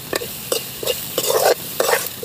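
Green papaya pieces being stir-fried in a pan, with loud rhythmic scraping stirs about every half second over a constant sizzle, close up and without talk.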